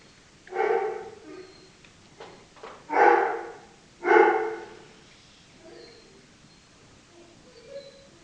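A few dogs bark in three or four sharp, separate bursts, moderately close, with quiet pauses between them and faint fainter sounds afterward.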